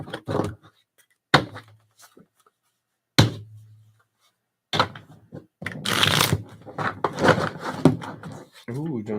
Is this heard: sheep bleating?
no